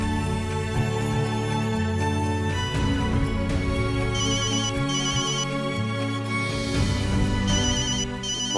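A mobile phone rings with a loud, looping melodic ringtone that plays on continuously for several seconds with no speech over it.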